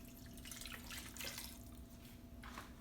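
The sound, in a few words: water poured into a pot of stewed cow foot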